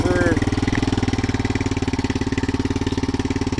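A Yamaha Big Bear 350 ATV engine idles while warming up, a close, steady rapid chugging pulse with a brief higher whine at the start.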